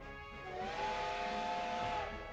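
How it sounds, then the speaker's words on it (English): Several airship steam whistles in a racing video game blow together as one sustained, layered hissing tone, steady for about two seconds before fading, with no other sounds. "The airships taking part in the race all sound their whistles at once"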